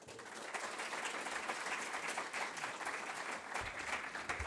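An audience claps warmly to welcome Consul General Lee at a talk on Korea–U.S. relations, a dense, sustained round of applause heard from within the room.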